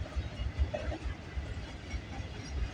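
CN M382 freight train rolls past at Bronte, a steady rumbling roll with rhythmic wheel clacks over rail joints, moderately distant and unaccompanied by voices.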